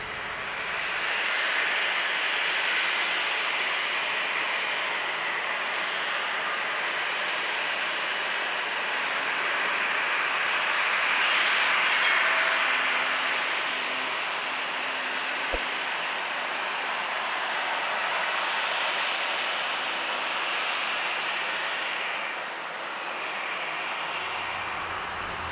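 Broad, steady jet engine roar from an Alaska Airlines jet taxiing at San Diego International Airport, a hissing wash that swells slightly mid-way and holds at a moderate distance for the whole stretch.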